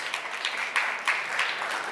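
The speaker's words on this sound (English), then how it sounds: "Give her a big round of applause, everyone." Applause from a conference audience welcoming a Romanian energy ministry advisor, a steady, dense wash of clapping that stays fairly even for about two seconds.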